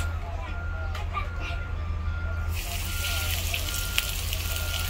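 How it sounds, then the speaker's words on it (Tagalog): Steady sizzling of chicken frying in hot oil, a continuous crackling hiss with faint background sounds and a brief clink near the end. "mag-fry na po tayo ng ating manok, Mainit na yung mantika."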